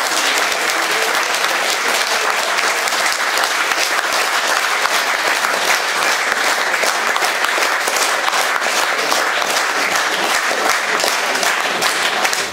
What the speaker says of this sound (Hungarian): neked szóljon a taps.